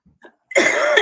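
A deliberately faked cough: a couple of faint breathy sounds, then one loud, rough, close burst lasting about half a second.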